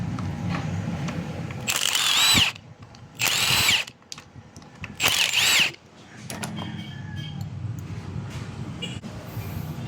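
A power drill or impact tool removes an 8mm bolt from a Honda Dash motorcycle engine during an overhaul. There are three sharp, loud whirring bursts of under a second each, separated by short pauses, against a quieter workshop background.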